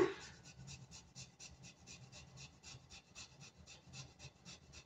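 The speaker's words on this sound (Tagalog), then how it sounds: "I-grate ko lang yung luya." Fresh ginger scraped against a grater for a chicken marinade, a steady run of quick, close rasping strokes repeating evenly throughout, with no talk.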